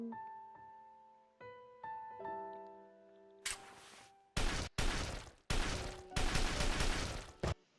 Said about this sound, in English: That's a lot of shots.